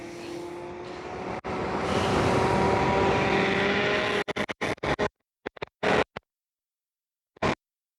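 A dual 1200 watt Ausom Gallop off-road electric scooter runs at full throttle, with a steady loud rush of wind and a rising motor whine for several seconds before the sound breaks into choppy gusts and gaps.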